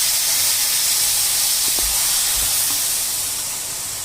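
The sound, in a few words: hot milk poured into roasting pineapple sheera, steaming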